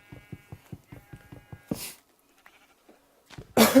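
Sheep in the Minecraft video game on Xbox bleat in a rapid, wavering string of short calls, followed by a couple of louder, harsher bursts, close and clear with no talking.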